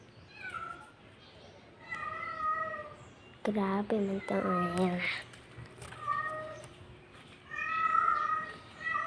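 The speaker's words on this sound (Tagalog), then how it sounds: "Ito yung pusa namin." A cat meows loudly a few times in the middle, close by, while a person talks before and after.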